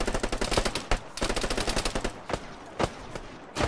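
Automatic gunfire in an online shooter video game: rapid bursts of loud, close shots with short pauses, followed by a few single sharp reports.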